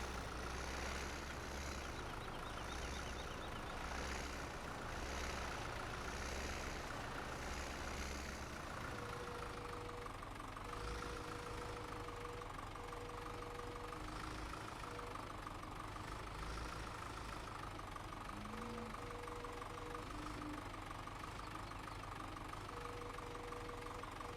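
A Farming Simulator 17 tractor engine hauling bales drones on steadily for the whole stretch, a close, loud low rumble with a faint higher whine riding on top and no talking.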